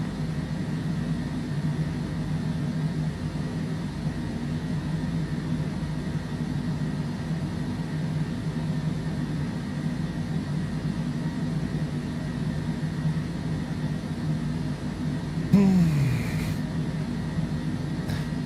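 A business jet on its takeoff roll from runway 26 left, a steady low engine roar holding throughout with a brief sweeping rise near the end.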